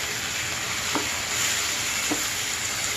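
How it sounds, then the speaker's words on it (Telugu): Soaked chana dal, half an hour in water, tipped into a pan of fried tempering gives a loud, steady sizzle throughout, with a couple of faint scraping touches. "వేగినాక పచ్చివాసన పోయిన తర్వాత అరగంట నానబెట్టుకున్న పచ్చిపప్పును వేసుకుంటున్నాను"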